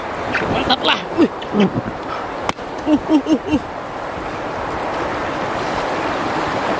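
A fast, strong river current rushes continuously during river tubing, a broad steady wash of water with people talking and calling out over it.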